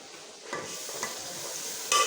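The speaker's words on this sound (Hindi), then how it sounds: "अच्छी तरह इसकी भुनाई कर लेनी है" Chicken, chickpeas and yogurt stirred and fried in a pot, a spoon scraping in a few strokes over a steady soft sizzle, close and fairly quiet with no voices.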